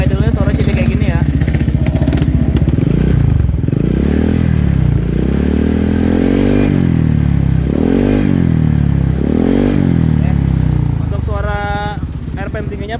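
A motorcycle engine with a replaced air filter idles with a throbbing, uneven putter, punctuated by several short throttle blips that rise and fall in pitch.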